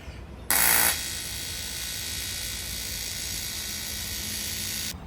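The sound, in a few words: tack welding intercooler piping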